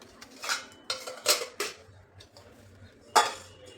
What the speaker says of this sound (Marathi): आता ह्यावरती फक्त असं झाकण ठेवायचं आपल्याला